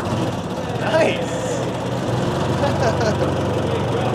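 A Ford Model T engine idles steadily just after being started with the hand crank, giving a continuous low rumble with slight unevenness. The sound is moderately loud and close, with no talking over it.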